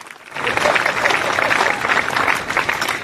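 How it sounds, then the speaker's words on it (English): A band concert audience applauds the saxophone section, a sudden swell of dense, loud clapping that begins after a brief quiet moment and continues steadily throughout. "Give them a round of applause."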